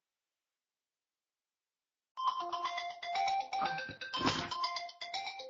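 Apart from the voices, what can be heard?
mobile phone ringing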